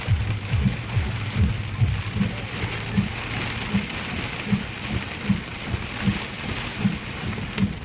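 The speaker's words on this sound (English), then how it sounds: "Oh no, they're waiting for the rain." Heavy rain pours steadily on a highway stretch of I-5 during a traffic halt, a dense, loud hiss with regular low thumps and rumbles throughout, no voices.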